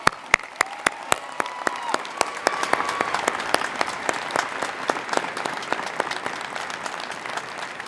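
Audience applause for emeritus faculty at the Oregon Tech Klamath Falls commencement, a steady wash of clapping from a large crowd with sharp individual claps standing out near the start, continuing evenly throughout.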